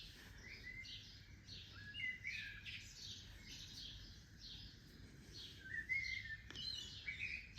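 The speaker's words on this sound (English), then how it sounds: "You can hear the birds singing." Birds sing outside a hotel balcony near the Europa Park theme park, repeated chirps and short twittering phrases through a quiet outdoor background, soft and somewhat distant, with no talk.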